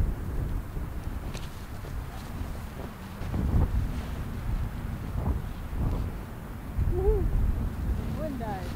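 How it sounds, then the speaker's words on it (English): Gusty wind at a -30° winter snowstorm camp buffets the microphone in uneven low rumbling bursts that swell and ease, with faint voices briefly audible near the end. "The wind's pretty gusty as opposed to consistent"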